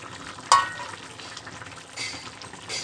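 Eggplant drops into a pan of rui fish curry with cauliflower, papaya and beans, making one sharp splash and then a steady, close sizzle of frying.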